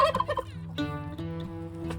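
Farm turkeys gobble in a loud, rapid warbling burst, then a sustained nasal call carries on, close and clear with no talking.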